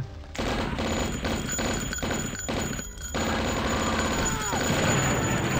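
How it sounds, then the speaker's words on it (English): Tommy gun blasting in the retro shooter Blood, several rapid bursts broken by short pauses, then a longer sustained stream of fire, loud and close amid game noise. "This Tommy gun feels good though."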